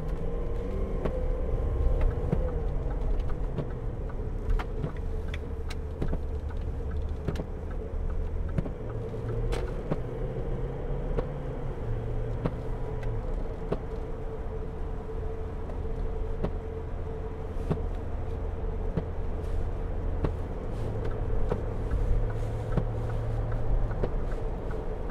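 A 2011 Range Rover TDV8 Vogue SE diesel pulls away and cruises on rough tarmac, a steady low engine hum and road rumble running continuously with no talk over it.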